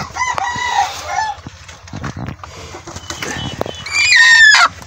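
A brooding Honey White hen clucks and gives short, agitated calls close by, with bursts of wing flapping and rustling, the loudest call near the end, no talking.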